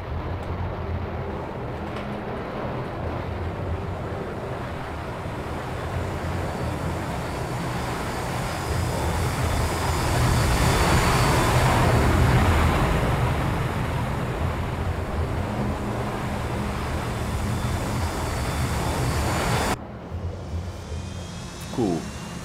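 Jet aircraft taking off in the Sea Power naval combat game, a steady loud roaring engine rush that swells toward the middle, then cuts off abruptly near the end, with no voices over it.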